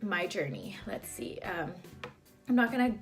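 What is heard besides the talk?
No everyday noises stand out.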